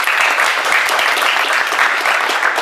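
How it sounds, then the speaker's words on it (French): A crowd applauds loudly and steadily at a football tournament, with dense clapping sustained throughout and no talking. "Donc pour ça, on peut les applaudir."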